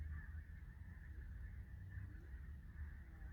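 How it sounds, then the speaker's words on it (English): Migrating geese honk repeatedly in the distance on a trail near Culross, Fife, Scotland, faint calls over a low, steady background rumble. "You hear the birds? I think they're probably just flying south for the winter."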